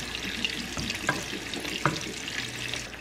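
Kidney beans and corn being stirred into a pot of chicken tortilla soup, a soft wet stirring with a few light clinks, fairly quiet.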